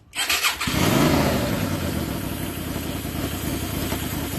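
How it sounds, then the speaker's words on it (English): An engine with a 535 manifold sputters to life and then roars steadily as the throttle is held open, loud and close with a rough, rumbling tone. "Give a bit of throttle, Peter."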